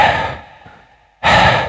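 A voice imitates the breathy sound of the sukun letter ha in Quranic recitation: two forceful, breathy exhalations that sound like sighs, close and loud, separated by a quiet gap.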